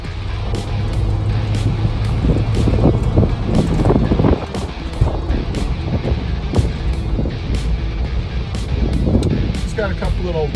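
A 1988 Jeep Wrangler YJ 4x4 with an automatic transmission and 69,000 miles drives along, giving a steady, close cabin rumble of engine and road noise with wind buffeting and a voice talking over it.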